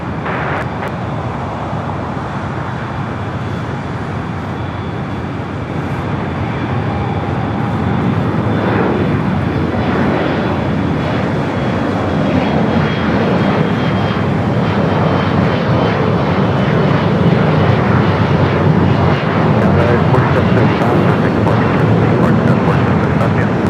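An airliner takes off from runway 25 right at Los Angeles International Airport at night, its jet engines a loud, steady roar that swells and holds throughout with a broad rushing wash.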